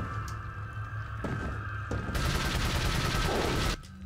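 Red 9 handgun fire in the Resident Evil 4 video game comes as a loud, dense run of rapid shots over steady game background noise, then stops abruptly near the end.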